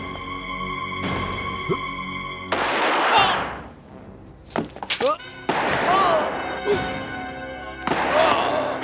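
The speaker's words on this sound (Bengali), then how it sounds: "ওদিক থেকে গুলির আওয়াজ এসেছে" A few sharp, heavy bangs ring out in the middle, like gunshots, over ongoing voices and a steady tonal background hum.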